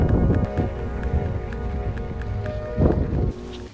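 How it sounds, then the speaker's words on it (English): Steady, loud wind buffeting the microphone throughout, with low rumbling gusts and a stronger burst near the end. "It's windy!"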